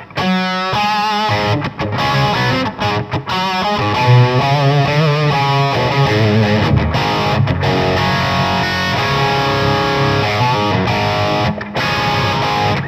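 A heavily distorted PRS SC 245 electric guitar through a high-gain amp channel plays chugging riffs and sustained chords, loud and saturated, with brief stops between phrases.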